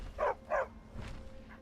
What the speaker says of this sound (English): I reinstalled diverse dogs. This is called diverse dogs. And so you'll have, like, we've got, this is a husky.